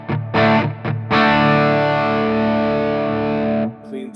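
Electric guitar through a Laney Ironheart Foundry amp pedal, a few short saturated stabs followed by one long, loud sustained distorted chord that cuts off, then faint handling noise.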